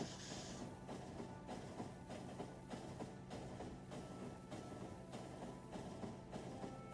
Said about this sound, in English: God damn, we get all of these trains running on rocket fuel